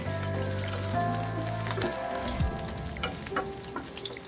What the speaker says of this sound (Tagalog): medyo nag-brown na mga suki yung ating pork and chicken